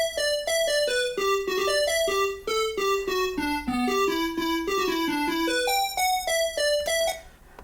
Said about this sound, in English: This particular one really reminds me of the original Rayman game, so that's why it's called the Rayman lead